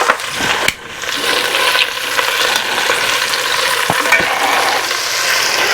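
Beef browning in a stew pot while being stirred, a loud continuous close sizzle broken by a few sharp clicks and scrapes of the utensil against the pot, no talking.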